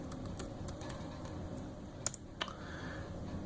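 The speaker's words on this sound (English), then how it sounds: "I'm going to type in mine, whatever you want that to be, hit enter, and then it's going to ask for a password" Keys are tapped on a Chromebook keyboard while a password is typed in, soft quiet clicks scattered irregularly over a faint hiss, with one or two sharper taps near the end.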